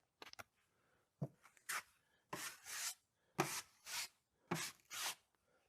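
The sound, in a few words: spreading and feathering drywall mud on wall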